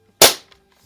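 A single sharp shot from a blued Barra 1866 CO2 air rifle with a stock .177 smooth-bore barrel, a loud close crack that decays quickly, followed by a faint mechanical click.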